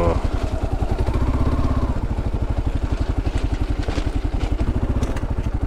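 A Kawasaki KLR motorcycle engine runs steadily nearby on a trail, a loud, continuous rapid thumping putter that holds an even pace throughout with no break.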